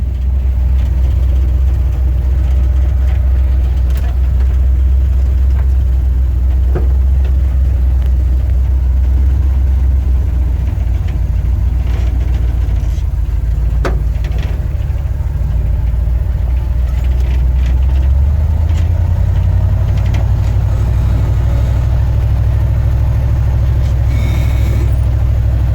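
A truck engine drones steadily while driving on the road, a loud, close low rumble lasting throughout with a shift in pitch near the end, as if changing gear, and faint rattles on top.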